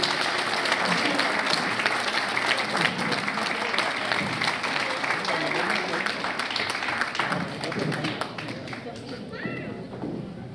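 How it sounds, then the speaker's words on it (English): An audience at an alumni speeches and awards event applauds in a sustained wash of clapping that stays loud and even, then eases slightly near the end. "So please give him a big applause of that."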